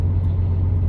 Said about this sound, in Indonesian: otomatis RPM nya naik dengan sendirinya